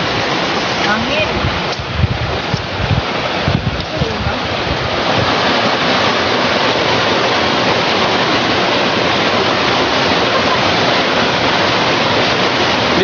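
A river in Surigao del Norte flowing with a steady, dense broadband rush, loud and constant, with a brief voice at the start.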